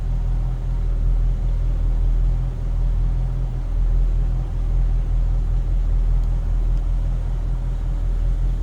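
A 1959 Cadillac Coupe DeVille engine running at a smooth, steady idle, a constant low rumble heard close with no voices.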